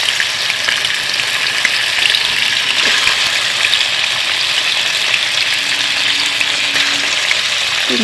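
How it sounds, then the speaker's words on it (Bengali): Fish belly pieces frying in hot oil in a wok, a loud, continuous close sizzle with faint bubbling and a few small knocks. "তো কড়াই তেল বসিয়ে দিয়েছি, গরম হয়ে গেছে। দিয়ে দিলাম মাছ। তো পেটিগুলো আগে ভেজে নেব।"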